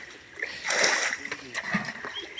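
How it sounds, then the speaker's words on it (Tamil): Fish splash in a shallow pond as it is being drained, a short burst of water slapping and sloshing close by, mixed with voices talking over it. "மீன் அடிக்குது."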